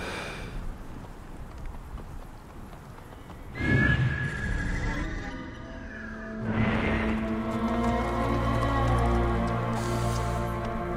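A horse whinnies loudly twice in the video game Assassin's Creed: Origins, shrill and close, over a rumbling background with hoofbeats clopping along.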